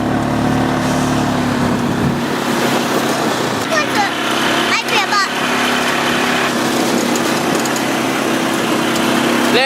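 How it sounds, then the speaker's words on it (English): A four-wheeler ATV engine drones steadily throughout while riding on a family cabin day, a constant mechanical hum with broadband rumble, and voices talk over it in places. "You like riding the four-wheeler?"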